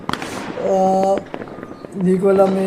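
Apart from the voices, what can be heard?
fireworks in a video game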